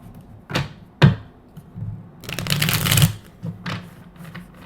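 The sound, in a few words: shuffling tarot cards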